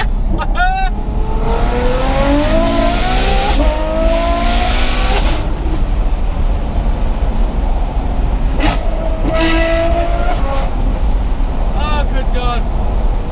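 Ferrari F12 V12 engine and exhaust revving hard and loud close by, rising and falling through several sharp bursts with crackling overrun, under an ongoing background rumble and a voice talking over parts of it.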